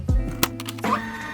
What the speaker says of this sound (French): On branche notre imprimante et on va numériser notre croquis.